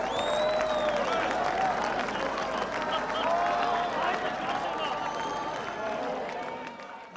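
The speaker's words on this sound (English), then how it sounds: "West Berliners had come to the border and they were applauding us." Crowd of West Berliners clapping and applauding at the Berlin Wall border crossing as the wall came down, steady dense applause mixed with scattered voices and calls throughout.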